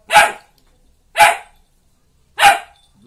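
A Labrador barks on command, three sharp single barks spaced about a second apart, loud and close with silence between them and no talk.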